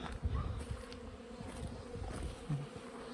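Honeybees buzz around a hive on their first spring cleansing flight, a faint, steady outdoor hum of many insects with soft low rumbles underneath.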